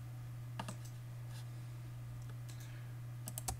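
Keys on a computer keyboard, a few quiet clicks in small clusters over a steady low electrical hum, with no voices.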